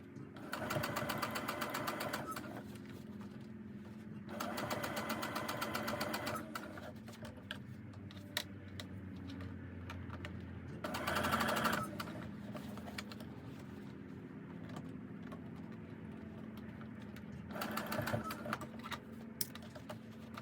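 A domestic sewing machine stitches a small fabric pouch in several short rhythmic bursts of rapid mechanical whirring, separated by quieter pauses, with faint background sound between runs.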